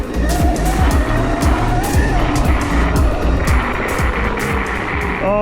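A dirt bike built to ride on ice revs loudly while doing wheelies on an ice patch, a close continuous buzzing engine with rising and falling throttle bursts, and a voice calls out briefly.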